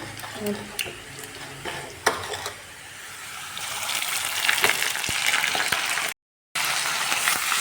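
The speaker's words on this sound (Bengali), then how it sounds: "মশলাটা ভালো করে ভেজে নেব।" Ginger, garlic and cumin paste fries in oil, starting with clattering stirs and scrapes against the pan before a denser sizzle builds up, with a brief dropout near the end.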